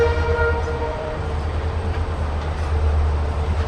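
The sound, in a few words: Amritsar-Bikaner express train hauled by two WDG4 locomotives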